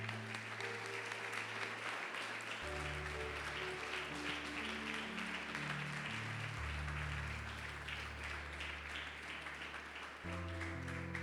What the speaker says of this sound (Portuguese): Podemos aplaudir ao Senhor em nome de Jesus.